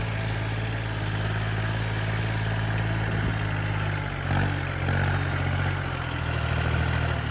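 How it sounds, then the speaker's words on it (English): Engine of a small tractor idling steadily, a continuous low rumble with a faint throb that holds even and near for the whole stretch. "Little tractor runs pretty good."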